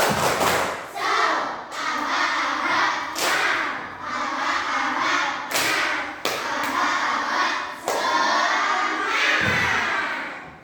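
A class of fifth-grade primary school children claps a rhythmic spirit clap in a classroom, loud, close bursts of clapping in repeated patterned phrases with occasional shouts.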